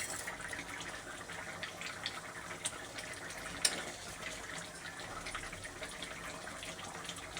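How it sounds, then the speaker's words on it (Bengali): Water poured into a pot of goat meat curry, a steady watery gushing and splashing that holds at moderate level throughout, with a brief louder splash midway and no talk. "জলের জন্য আমি জল দিয়ে দিলাম।"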